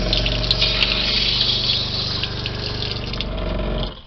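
Water runs steadily from the hot and cold taps of an RV kitchen sink during winterizing, with a pump droning underneath, loud and close, cutting off abruptly at the end.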